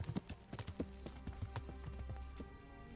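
Horse hooves clop at an uneven pace in the video game Kingdom Come, a series of distinct thuds close by, settling into a softer rhythm.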